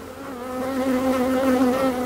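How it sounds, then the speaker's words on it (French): Honeybees swarm around an opened package of bees in a beekeeping yard, a dense, steady, close buzzing drone that swells slightly and holds throughout, with no talking. "Allez, on retourne dans le paquet d'abeilles."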